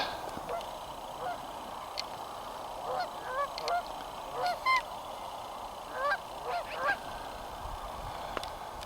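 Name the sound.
goose making an unusual honking call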